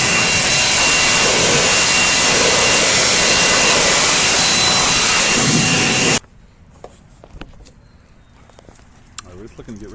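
Loud, steady leaf blower roar clearing leaves off a John Deere D110 mower deck, running for about six seconds then cutting off abruptly, leaving faint clicks and rustles.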